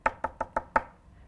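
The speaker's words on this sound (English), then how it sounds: "And she went up to that door and she knocked." Five crisp knocks on a wooden cottage door, evenly spaced in a quick rhythm, close and fairly soft, with the last knock slightly louder, then silence.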